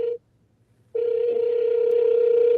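A telephone ringback tone sounds as a steady electronic purr: a short burst, a pause of nearly a second, then a longer continuous tone, clear and alone.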